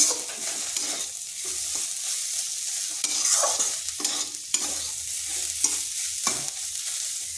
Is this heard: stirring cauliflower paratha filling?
yes